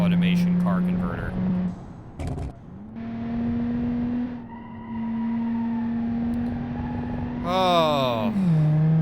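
A car engine in Automation/BeamNG drones steadily, rising and falling in pitch, with a sharp rev sweep near the end, heard alongside someone talking.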